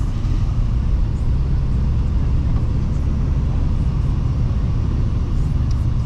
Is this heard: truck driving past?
yes